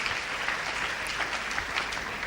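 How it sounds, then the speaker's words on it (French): A church congregation applauds during worship, a dense, even clapping from many hands sustained throughout, moderately distant and fairly soft, with no clear speech. "Vous êtes de bons choristes, acclamons le roi des rois."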